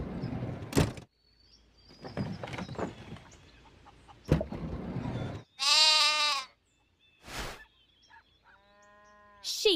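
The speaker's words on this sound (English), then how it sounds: "Sheep." A sheep bleats in a wavering, quavering burst in a children's animal sound game, followed by other short farm animal cries separated by brief silences, loud and close.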